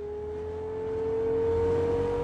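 Car engine in the Cyberpunk 2077 video game holding a steady, loud drone that slowly rises in pitch as the vehicle accelerates, with no voices over it.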